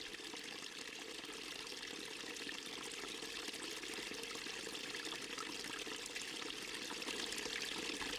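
Meltwater pours and trickles across the surface of a glacier in Oceania, a steady, dense rushing flow heard up close without pause.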